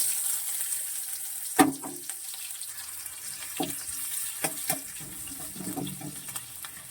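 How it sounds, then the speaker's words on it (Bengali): Chopped onion hits hot cooking oil in a home kitchen, making a steady high sizzling hiss with a few sharp utensil clinks and clatters, moderately close and with no talking. "এবার এই পেঁয়াজ কুচিটা তেলের ওপর দেব।"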